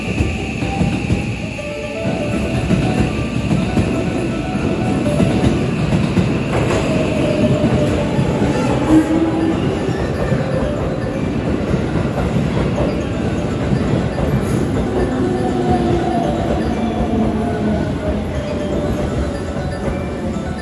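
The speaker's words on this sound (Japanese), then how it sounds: "15番乗り場に列車が参ります。 ご注意ください。 列車が参ります。" A JR West Kansai-Airport Haruka limited express (281 series) rolls into Tennoji Station platform 15 with a steady rumble of wheels, faint metallic squeals and clatter, continuous and fairly loud throughout.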